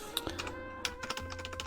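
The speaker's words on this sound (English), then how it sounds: "Let's go and type out the text object." Fast clicking keystrokes on a computer keyboard rattle out a short burst of text, close and clear over a faint low hum, with no talking.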